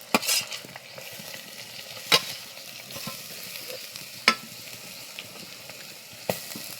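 Crushed green chilli and coconut sauté with onions in coconut oil for a jackfruit seed dish, making a soft continuous sizzle broken by a few sharp spatula scrapes and knocks against the pan at irregular intervals.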